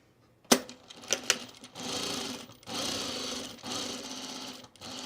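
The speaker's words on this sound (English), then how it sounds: "we're gonna sew this wrong sides together, and we're gonna sew the perimeter here first" A sewing machine stitches the perimeter of pajama bottoms with wrong sides together: a few clicks, then a steady whirring run broken by brief pauses, close and alone.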